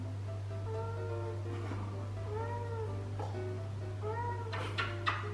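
A house cat meows several times in short, rising and falling calls at moderate distance over a constant low electrical hum, with a few brief knocks near the end.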